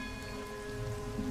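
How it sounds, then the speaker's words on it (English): Steady rain falls throughout in the fishing game Dredge, a soft continuous patter under sustained tonal game ambience. "the rain is really calming"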